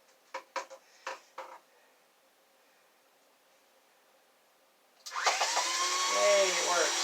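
A linear actuator motor, newly fitted with connectors, starts up after a few handling clicks and whirs steadily at close range, its pitch sliding lower as it runs, with no one talking.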